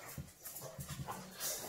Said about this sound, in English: What's up with you, dog?